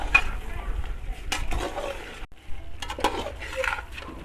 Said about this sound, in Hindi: खुश्क धनिया शामिल करने के बाद एक बार मिक्स कर लेना है।